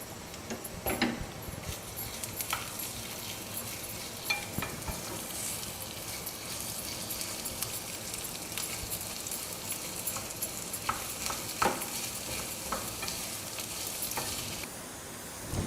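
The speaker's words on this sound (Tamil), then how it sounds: "பெரிய வெங்காயத்தை போட்டு நல்லா ஒரு மாதிரி ப்ரௌன் கலரில் இருக்கிற மாதிரி வறுக்கணும் நம்ம." Large onions frying until brown in oil for a Tamil vegetable pulao, a soft continuous sizzle with scattered faint stirring clicks, quiet and steady throughout.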